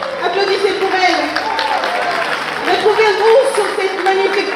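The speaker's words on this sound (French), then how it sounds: "Applaudissez pour elle." A conference audience in Paris claps for a speaker, with steady applause and crowd noise continuing under an announcer's amplified voice.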